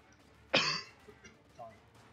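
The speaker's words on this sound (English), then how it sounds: "Sorry, I had to cough." A game commentator gives a single sharp cough, close to the mic, followed by faint background murmurs.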